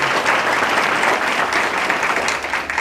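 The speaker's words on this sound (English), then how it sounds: "give yourselves a round of applause" Sustained audience applause fills a school-board meeting hall for Newport News Public Schools, dense steady clapping from a large crowd, loud and unbroken without voices.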